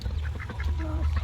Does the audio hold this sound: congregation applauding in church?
no